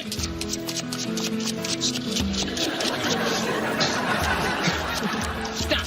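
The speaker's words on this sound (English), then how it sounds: "Alison, I shuffle the deck and you say stop whenever you want" A deck of playing cards is shuffled on a magic competition show, rapid riffling and rubbing flutters repeating in quick bursts, close and fairly loud, with light laughter and chatter from people underneath.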